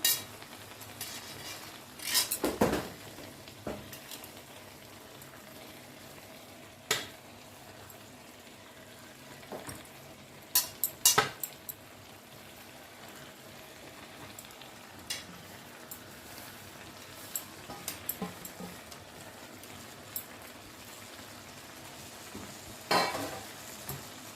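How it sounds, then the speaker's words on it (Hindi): Khoa is added to a kadhai of carrot halwa and stirred, giving soft scraping and sizzling with sporadic clinks of a spoon against the pan over a low cooking hiss. "ये आधा खोआ मैं दूसरी कढ़ाई में डालूंगी"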